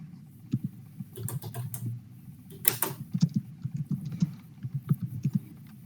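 Quick, irregular keystrokes on a computer keyboard during a tabletop role-playing session, close and clear, coming in short bursts with brief pauses between them.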